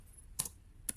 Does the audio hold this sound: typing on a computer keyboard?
yes